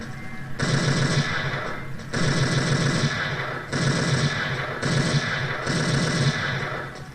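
Gunfire in the FPS Creator video game: bursts of rapid automatic shots in five separate runs of about a second each, separated by short gaps, loud and close.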